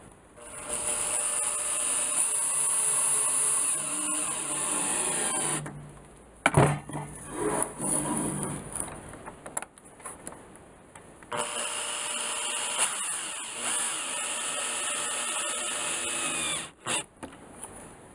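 Power saw cutting wood pieces for a box in a workshop, loud sustained whine in two long cuts separated by a few seconds of clattering and handling, with no speech.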